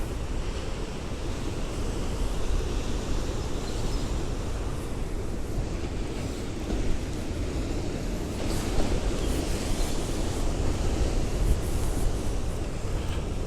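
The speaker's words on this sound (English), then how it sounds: "These waves barreling in here." Ocean surf breaks and rumbles along the shore on the coastal walk between Bronte and Bondi, a continuous heavy wash with wind buffeting the microphone and occasional louder surges.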